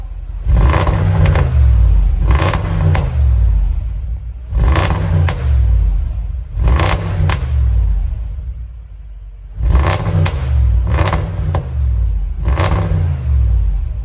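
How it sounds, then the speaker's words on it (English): A Lexus engine with a standard exhaust revs in repeated bursts, five or six loud throaty roars with brief dips between, a deep rumbling exhaust close by. "standard exhaust, give it a rev."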